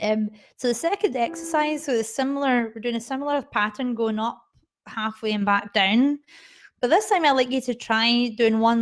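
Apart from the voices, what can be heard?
None of the usual background noises is heard.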